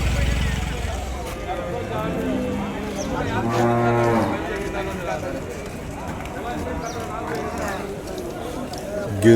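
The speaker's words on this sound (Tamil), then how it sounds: "பிடிச்சிட்டு வந்துட்டுருக்காங்க பாரு நாட்டு மாடுங்க" Native cattle being led back from the Vaniyambadi cattle market, one loud nearby moo rising over the crowd noise and talk, with fainter lowing and bustle around it.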